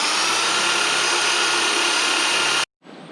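A power drill runs steadily at full speed, boring a hole through wood beneath fiberglass on a boat, a loud continuous whine that cuts off abruptly before a fainter hum resumes.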